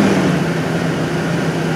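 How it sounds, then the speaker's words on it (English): A 2013 Toyota Sequoia Platinum runs with its engine on, a steady low exhaust hum and broadband rumble at idle, fairly loud and close with no talking over it. "I'm going to turn this one on. We're going to take a listen to how the exhaust sounds."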